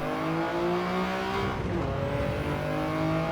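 A Toyota GR Yaris racing on the Tsukuba circuit in Gran Turismo 7 gives a continuous engine drone with shifting pitch and a brief dip, steady and loud with no talking.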